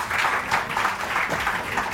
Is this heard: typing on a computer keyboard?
no